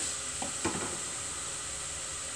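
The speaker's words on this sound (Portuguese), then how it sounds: "Dá uma fritadinha, ó. Só fritar um pouquinho." Seasoning fries in a pan as the base for a low-carb zucchini cream soup, a quiet, steady sizzle with a couple of soft stirring knocks near the start and no voices.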